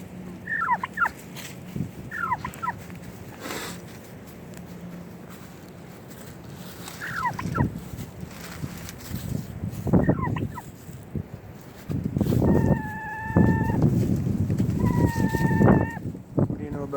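Turkeys gobble in loud repeated bursts, with higher chicken-like clucks scattered between them, some calls sounding close; a voice speaks briefly now and then among the birds.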